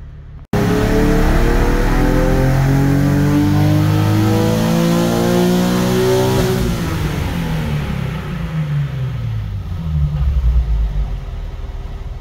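An Infiniti VR30 twin-turbo engine on a dyno, likely in a Q50 or Q60, roars loudly under a long sustained full-throttle pull, its pitch climbing steadily before it drops off and settles into a lower rumble.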